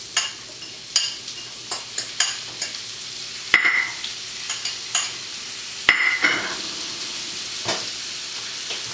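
Onions sizzle in a hot frying pan after pork steak, with a steady fry hiss and repeated scraping taps of a utensil stirring them, close and clear with no talking.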